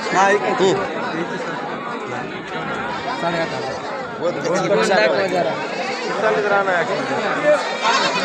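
Goats bleat at a livestock market amid steady crowd chatter, with traders talking throughout and animal calls rising intermittently through the busy hubbub.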